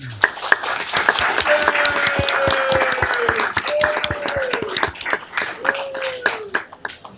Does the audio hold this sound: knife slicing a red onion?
no